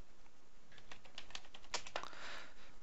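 Clicks from a computer keyboard come in a short, irregular burst of keystrokes, quiet and close, with no voice over them.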